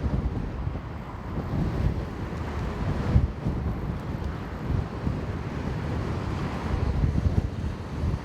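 Cold wind gusting at a Rotterdam harbour beside a moored ship, a steady loud rumble of wind buffeting the microphone with water and surf noise underneath, no voices.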